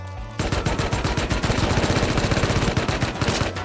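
Rapid automatic gunfire rattles loud and close in a video game as shots pour into a van, a continuous burst of quick cracks after a brief quiet start.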